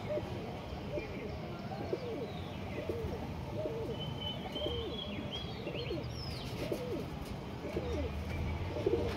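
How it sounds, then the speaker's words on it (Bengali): Pigeons in a pigeon house give repeated soft, low cooing calls in a steady rhythm, with faint chirps and background noise. "যতগুলো দেখছো সবই বিডার পায়রা"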